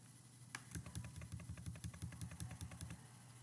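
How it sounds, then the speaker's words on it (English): Rapid key presses on a calculator keypad while entering a list of data values, a steady stream of light clicks close by with no talking. "make sure that you typed everything in the calculator correctly"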